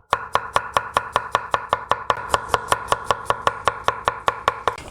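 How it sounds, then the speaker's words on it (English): A knife finely minces garlic cloves on a cutting board, a steady run of about twenty-five quick, even taps close by, with butter heating in a pan nearby. "I'll take a moment to finely mince some garlic, slicing each clove very thinly."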